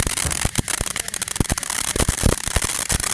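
Fireworks being shot off at a backyard pyrotechnics show, a dense, loud barrage of rapid crackling pops and bangs going off continuously and close by.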